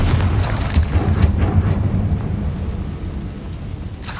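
The Confringo blasting spell explodes in Hogwarts Legacy with a deep, rumbling boom. It is loudest in the first two seconds, then a softer, rolling rumble lingers and decays, with no talk.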